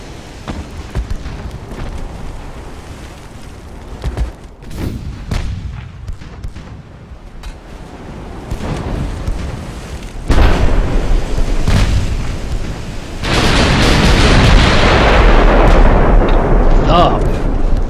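Battleship turret guns fire with heavy booms and explosions in the naval game Ultimate Admiral: Dreadnoughts, the blasts swelling louder in the final seconds while someone talks over parts of the action.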